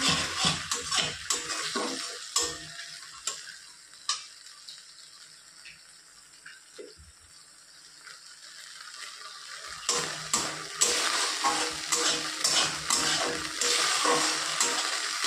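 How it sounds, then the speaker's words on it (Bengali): Spice paste for a vegetarian paneer curry frying in a pan, heard as a sizzle with spoon scrapes and clinks that fade to a quieter lull midway, then a louder sizzle and stirring return, with no voices. "পুরো পেস্টটাকে আমি কষিয়ে নেবো ভালো করে মশলাটাকে"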